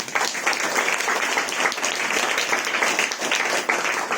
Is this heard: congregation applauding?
yes